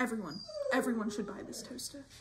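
A dog whimpers and yips softly under a voice as he speaks about a toaster, the high whining cries rising and falling several times close by.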